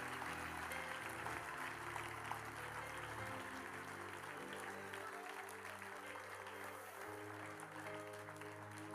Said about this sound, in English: Give your brothers and sisters a big hand clap as they return to their seats.